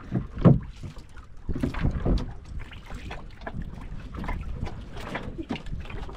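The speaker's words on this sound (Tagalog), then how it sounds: "Grabing hangin." Strong wind buffets the microphone in rough, uneven gusts, with some splashing and a few faint voices underneath.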